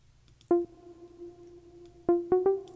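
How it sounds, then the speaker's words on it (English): A sparse synth arpeggio pattern plays a few bright plucked notes, one near the start and a quick cluster of three toward the end, each ringing out in a quiet mix. "we're going to put together here a nice little ARP pattern."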